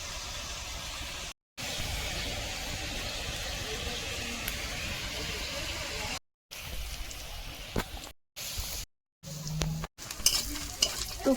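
Vegetables such as kakrol and kudli frying in a pan over a clay stove, giving a steady, moderately close sizzle with soft stirring scrapes, broken by several brief dropouts.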